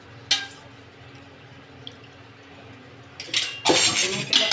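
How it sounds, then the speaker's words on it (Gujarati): Oil is poured into a pan to temper upma, starting with a brief clink, then a quiet pause before a louder burst of pouring and liquid splashing near the end. "તેલ ઉમેર્યું છે"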